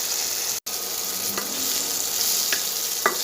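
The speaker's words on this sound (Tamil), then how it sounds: "இது நல்லா வதங்கட்டுங்க" Onion and tomato sautéing in a pan for a ragi semiya dish, an even, close frying hiss with a couple of light stirring scrapes and one brief cut-out.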